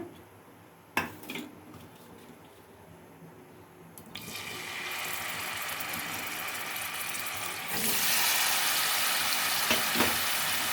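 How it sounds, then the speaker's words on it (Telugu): Paneer pieces dropped into melted ghee in a pan, a faint clatter followed by a steady sizzle that swells and grows louder and brighter partway through, continuing without speech. "నెయ్యి కరిగింది. ఇప్పుడు పన్నీర్ ముక్కలు వేసేసుకుంటానండి."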